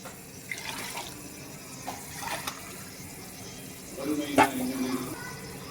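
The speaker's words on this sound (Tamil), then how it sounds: "அளவு தண்ணி ஊற்றியாச்சு." Water poured into a cooking pot for mutton biryani in a kitchen, a soft trickle and splashing with drips and light clatter that builds near the end.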